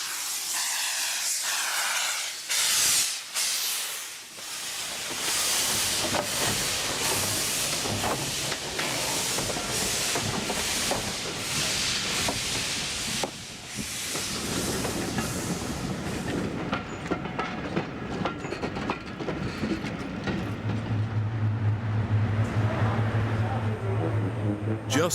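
A heritage dining train at a steam railway diesel gala pulls out of the station with hissing, rumbling and clickety-clack wheel noise, loud and continuous, ending in a low engine drone, with some voices heard.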